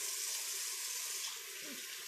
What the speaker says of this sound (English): You wash your hands really good in between your fingers.